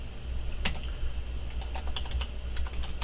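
A computer keyboard typing a command on a router setup: several close, crisp keystrokes in an irregular rhythm over a low steady hum, with no speech.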